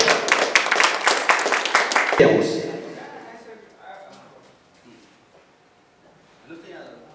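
Brisk applause greets a special guest at a debate competition, loud and dense for about two seconds before cutting off abruptly. Quieter room sounds and scattered speech follow.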